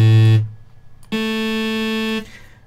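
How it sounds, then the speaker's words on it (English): Synthesizer sound generators produce plain, simple waveforms: a short steady buzzy tone, a brief pause, then a longer sustained harmonic-rich note, loud and alone with no talk. "the sound is created from scratch by one or multiple sound generators"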